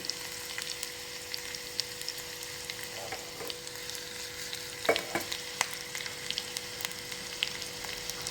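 Mustard seeds and chili sizzle in hot oil in a pan, a continuous crackling fry dotted with sharp pops and spits, heard close and alone.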